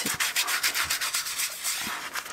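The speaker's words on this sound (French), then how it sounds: "Je vais venir déjà brosser un petit peu dans les joints." Brisk, rhythmic scrubbing of a stiff brush in the joints of stone fireplace blocks to clear moss, repeated back-and-forth strokes close up, fairly quiet with no voices.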